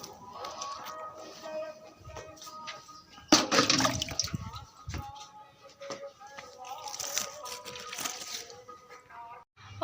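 Plants being watered on a summer evening, water splashing and trickling with a louder gush partway through, close by, with a voice speaking over it.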